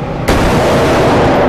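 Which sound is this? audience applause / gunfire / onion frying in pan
gunfire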